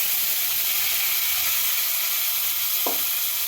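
Spice paste hits hot oil for a Bengali egg curry, giving a steady, loud, broadband sizzle with a brief clink partway through.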